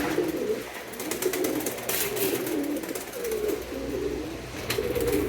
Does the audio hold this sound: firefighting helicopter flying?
no